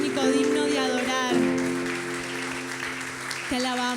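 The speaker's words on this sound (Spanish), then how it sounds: "comenzamos dándole un aplauso a Él" A church congregation applauds God during worship, clapping under sustained sung or spoken voices, with a brief pause and renewed vocal lines.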